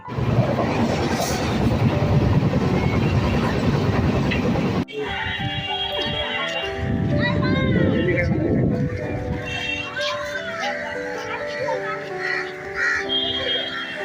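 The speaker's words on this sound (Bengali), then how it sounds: "আমাদের ট্রেন চলে আসলো আর আমরা কিন্তু ট্রেনে উঠে পড়লাম" A train rumbles loudly for several seconds, then the noise drops and a horn and squealing tones follow amid moving-train sounds.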